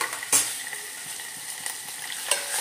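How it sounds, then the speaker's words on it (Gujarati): Spices, curry leaves, ginger and chilli pieces sizzle in hot oil in a pan as a spoon stirs them, a bright, close crackle with a few sharp scrapes and no one talking. "હલાવી દઈએ, મિક્સ કરી દઈએ."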